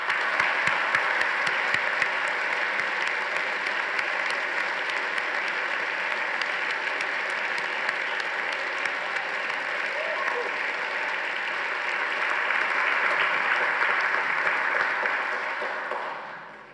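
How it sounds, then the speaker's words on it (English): An audience at a university graduation congregation ceremony gives sustained, even applause for graduates. The dense clapping continues for about sixteen seconds before fading out. "Please join me in giving these graduates a warm round of applause."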